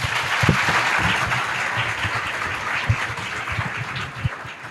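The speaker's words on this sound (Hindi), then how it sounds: "एक बार जोरदार तालियां।" A school gathering's audience claps in a loud, dense round of applause honoring student achievers, steady for several seconds with a few sharper individual claps standing out near the end.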